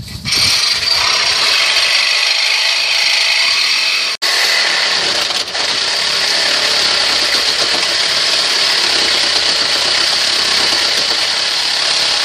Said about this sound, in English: I'm just literally going to chop there and take the catalytic converter off,